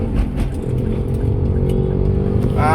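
Engine of a Toyota Avanza converted to automatic clutch, droning steadily under acceleration, loud and close from inside the car, with the pitch starting to climb near the end.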